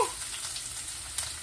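Onion goes into a hot pan for chicken curry and sizzles in a steady, close frying hiss, with a brief stirring clatter near the end.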